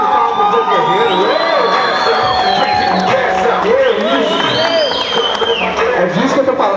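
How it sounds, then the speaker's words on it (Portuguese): After a fight at a Legends of Fight event, a loud crowd cheers, whoops and shouts with some applause, close and continuous, while an announcer talks over the noise. "Eu gostaria de uma salva de palmas para o Zé Guerreiro."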